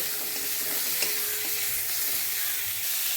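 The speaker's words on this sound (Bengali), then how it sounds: "গ্যাসটা জোরে দিয়ে এবার নাড়াচাড়া করে ভাজবো, তারপর তুলে নেব।" Cauliflower pieces stir-fried in oil on high gas, a constant close sizzling hiss with soft scraping from stirring and a few light clicks, no talking.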